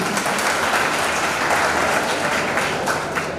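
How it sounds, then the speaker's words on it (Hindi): An audience at a coaching-institute seminar in Anta gives a loud, sustained round of clapping, many hands together in a dense, steady roar for several seconds with no speech. "जोरदार ताली बजाइए।"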